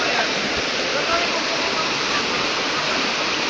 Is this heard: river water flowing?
yes